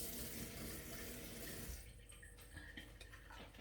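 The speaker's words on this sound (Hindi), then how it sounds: "पानी डालना इसके अंदर थोड़ा सा ना, 1/2 गिलास।" Water pours steadily into a blender jar for a smoothie, a close, continuous splashing stream that thins and eases off partway through, leaving softer trickling.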